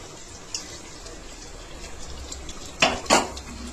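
A metal handi-style cooking pot holding mutton is handled in a home kitchen, with faint background clatter and then two sharp metallic clanks near the end, close and fairly quiet.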